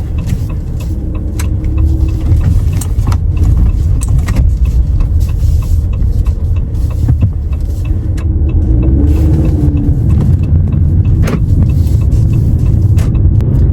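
Steady, close engine hum and tire rumble from a car cruising along a road at around 45 in a 50 zone, a continuous low drone with no pauses and no talking.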